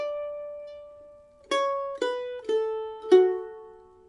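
A mandolin plays the opening phrase of a fiddle tune: one held note, then four clearly plucked, ringing notes at an even, unhurried pace, close and alone with no talking.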